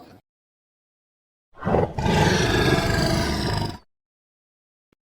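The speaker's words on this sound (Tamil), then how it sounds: "அங்க பாரு சிங்கம் அங்கதான் இருக்கு" Cartoon lion giving a single loud, close roar lasting about two seconds after a moment of silence, with a faint voice just before it.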